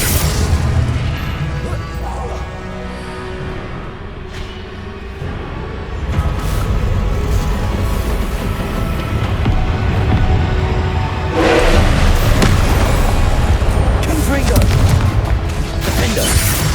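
Fire and blast spells in the Hogwarts Legacy video game, Incendio among them, erupt in dense rumbling booms and crackling bursts layered over continuous combat noise, swelling louder in the second half while a voice calls out between casts.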